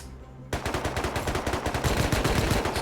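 Rapid automatic gunfire from a video game erupts after a brief quiet moment and continues as a loud, dense burst of evenly spaced shots to the end.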